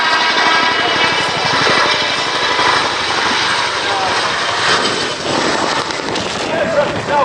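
A Chinook twin-rotor helicopter performs a pedal turn at the Cosford airshow 2017, giving a loud, steady roar of turbines and rapid rotor chop, while an announcer talks over a public address system.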